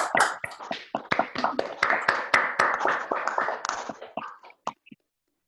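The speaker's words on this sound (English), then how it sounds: "just open your mics, and let's clap for ourselves" Scattered applause from online meeting participants clapping over open microphones, uneven claps and taps from several people at different levels, thinning out to a few isolated claps before silence.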